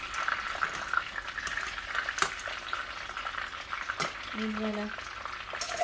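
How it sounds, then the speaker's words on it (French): Stuffed bell peppers fry in a pan with a steady, crackling sizzle at moderate loudness, broken by a few clinks of utensils, while someone speaks briefly over the cooking. "on fait frire d'abord les poivrons qu'on a farcis"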